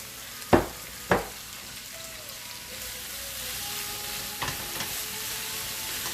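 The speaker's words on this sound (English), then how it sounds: "give that a quick stir. Also going to go in with my broccoli." Beef and broccoli stir-fry tossed in a hot pan, with two sharp scraping stirs followed by a steady sizzle and a few more clinks of the utensil, no talking.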